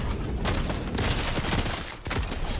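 Dense, continuous gunfire from a shooter video game, with rapid overlapping shots and booming blasts packed together at close range and a brief dip near the end.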